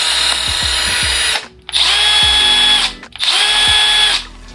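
A Milwaukee M12 Fuel drill whines loudly in three bursts separated by short pauses. Each burst has a quick spin-up and a steady high-pitched motor tone, with a few clicks before the first run and no voices.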